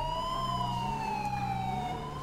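An emergency vehicle siren from a SAMUR BMW ambulance mod in GTA 5 wails steadily and loud throughout, a continuous two-tone electronic siren with no talk.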